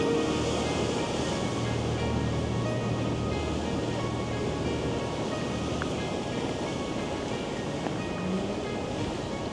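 Storm waves crashing at Porthleven, Cornwall, in high wind: a continuous dense roar of surf and gusting wind buffeting the microphone, loud and unbroken throughout.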